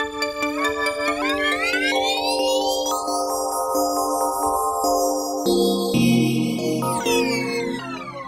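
Razor Chill synth preset Rainy Windows in Native Instruments Reaktor, a sustained tone whose harmonics sweep upward then shift and fall back, bright and continuous over about eight seconds with no talking.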